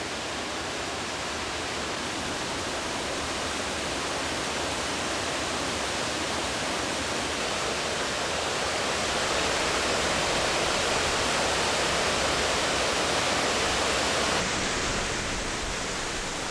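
Steady broadband roar of Jiktang waterfall, a wide, low falls about 3 m high and 50–60 m across on the Hantan River, constant and full without pauses or voices.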